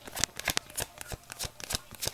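Tarot cards shuffled by hand in a quick run of crisp riffles and slaps, close and fairly loud, with no talk over them.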